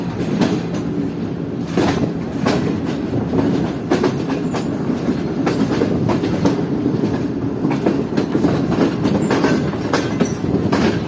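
The Sir Syed Express pulls out of Chatta railway station in Pakistan, heading from the loop line toward the main line, its wagons rolling with a steady rhythmic clickety-clack and occasional louder wheel clunks, close and continuous with no talk.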